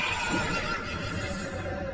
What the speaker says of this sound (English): The golden unicorn she dreamt of transformed into a black, nightmarish horse.